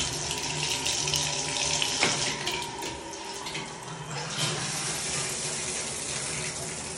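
Water runs steadily from a bathroom sink faucet in an apartment unit, a continuous broadband rush with a brief clunk of the tap handle partway through, close and loud throughout.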